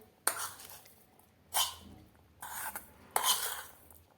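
Sago pearls are mixed with rock salt in a bowl, giving four separate bursts of rattling, scraping grains with quiet pauses between them, close up and moderately loud.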